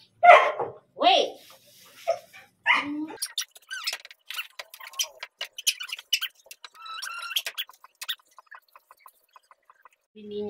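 A hungry pet dog barks and whimpers in loud, close, short bursts, mixed with yips, while someone talks to it between the sounds.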